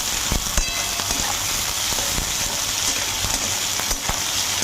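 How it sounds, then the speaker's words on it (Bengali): Chopped onions fry lightly in hot white oil in a pan, giving a loud, steady sizzling hiss with a few sharp pops and stirring clicks close by. "পেঁয়াজগুলো হালকা করে ভেজে নেব।"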